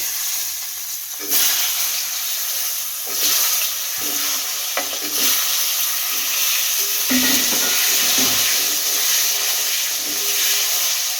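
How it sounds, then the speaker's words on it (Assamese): Potatoes frying in hot oil in a pan, a loud, steady sizzle and hiss close by, with occasional stirring scrapes and bursts of spattering. "প্ৰথমে আলুখিনি ভাজি ল'ম"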